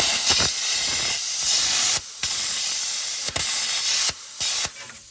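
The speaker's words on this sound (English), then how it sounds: "instead of fighting these old bolts that you see just chilling back here, take a plasma cutter" A plasma cutter hisses in loud bursts as it slices through old engine bolts, with several sharp stops and restarts between cuts, no talking.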